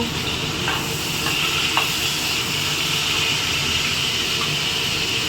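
Tomato sizzles in a pan with ginger, onion, garlic and chilli paste and cashews, a steady close hiss of frying with faint stirring and no voices.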